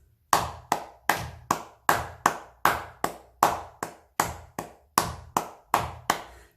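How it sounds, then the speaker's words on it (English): Steady hand clapping in even crotchet beats, about sixteen sharp claps close to the listener with a regular pulse and brief gaps between them, no voices. "And for the length of 1 semibreve, I can clap 4 crotchets."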